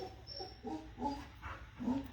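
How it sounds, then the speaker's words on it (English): A dog whines and whimpers softly in a few short, high cries, faint and somewhat distant, in a quiet room during a stitching session. "the dog, she's so whiny today"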